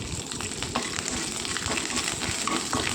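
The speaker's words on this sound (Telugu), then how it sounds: "కొంచెం మెంతులు వేసుకోవాలి తర్వాత ఒక స్పూన్ జీలకర్ర ఆవాలు ఒక స్పూన్ మినపప్పు శనగపప్పు ఎండుమిర్చి కొద్దిగా కరివేపాకు వేసి వేయించుకోవాలి" A tempering of fenugreek seeds, cumin, mustard seeds, black gram and chana dal, dried red chillies and curry leaves frying in hot oil, a close, continuous crackling sizzle with brief popping spikes.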